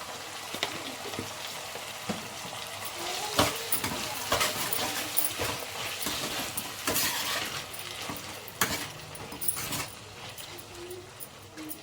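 Tomato frying and sizzling in a pan with salt added, a steady crackling hiss broken by repeated scraping stirs and light clinks of a spoon against the pan, continuing throughout with no talking.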